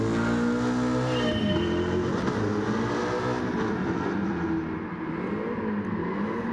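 Race car engine droning steadily in Gran Turismo 7, with rising and falling harmonic whine as the car accelerates and shifts, loud and continuous throughout.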